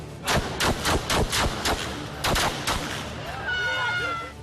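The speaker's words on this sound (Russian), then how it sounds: "Вот люди в форме, без знаков различия, стреляют в людей." Armed men in uniform shooting at people during unrest in eastern Ukraine, with a rapid series of about ten loud, sharp gunshots in uneven bursts, close by, followed by a thin whistling tone and a faint voice.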